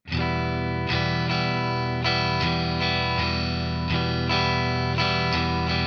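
Electric guitar strummed with an effects-heavy, slightly distorted tone, steady repeating down-and-up strokes in a rhythmic pattern, sustained chords ringing between strums, no talking.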